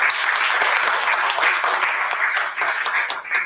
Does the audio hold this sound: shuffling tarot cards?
no